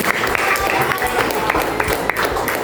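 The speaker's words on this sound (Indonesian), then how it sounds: "Coba applause, tepuk tangan untuk Kesia." Students in a classroom clap together for a classmate, a loose burst of close, uneven handclaps lasting a couple of seconds with some voices mixed in.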